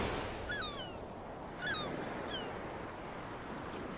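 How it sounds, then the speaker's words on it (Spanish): Steady ocean surf rolls in at Boca de Pascuales beach in Colima, a broad continuous wash of breaking waves with wind noise and a few faint high bird calls over it. "Dormir y amanecer con un concierto de olas eterno no tiene precio."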